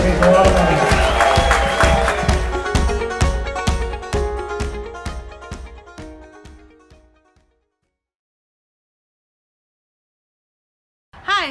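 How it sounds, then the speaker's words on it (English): Audience applause at Palm-a-Palooza, a charity fundraiser for the Pacifica Resource Center: dense clapping that thins into scattered claps and fades to silence after about seven seconds, followed by a brief voice at the very end. "Give yourself a round of applause"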